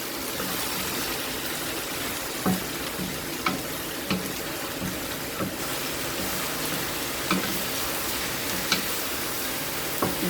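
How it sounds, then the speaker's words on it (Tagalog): Shrimp sautéed in a pan for a dish of gourd and shrimp, a steady close sizzle with periodic scrapes and clinks of stirring every second or so, continuous and without talk. "Gisa po natin mabuti yung hipon para hindi siya malansa"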